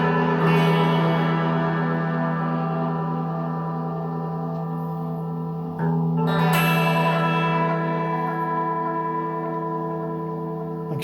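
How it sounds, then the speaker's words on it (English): An electric guitar played through an effects unit set to chorus with distortion and delay, with a long shimmering sustained chord and then a second strum that rings out with echoing repeats, with no voices. "Put it back on the chorus. It'll get some distortion now."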